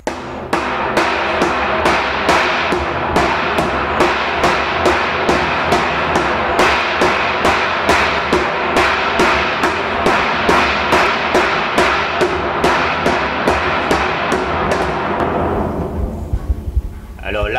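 A tinsmith hammers sheet metal in steady, rapid, ringing blows, dozens of evenly spaced loud metallic strikes close by that carry on without pause before stopping near the end.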